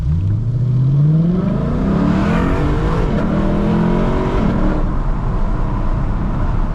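A Lexus LC 500 fitted with a Varis aero kit pulls away from a green light, its engine note climbing loudly through the rev range in a long rising sweep, close up and with no talk.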